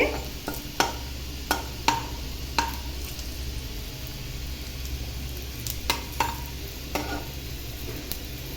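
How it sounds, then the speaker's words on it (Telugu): Raisins, coconut and cashews fry in a pan, a low steady sizzle punctuated by sharp, evenly spaced clinks and scrapes of a stirring spoon against the metal. "కిస్మిస్ కూడా బాగా ఉబ్బే వరకు వేయించుకోవాలండి"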